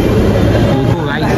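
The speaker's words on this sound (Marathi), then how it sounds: "आज मेट्रोने चाललं आहे" Andheri metro train in Mumbai, a steady loud rumble of the running carriage with a faint high whine, a person talking over it.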